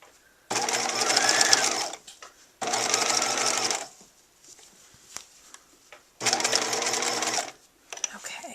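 A home sewing machine stitching fabric up to a pivot point in three loud steady bursts with pauses between, and small handling clicks and rustles in the gaps.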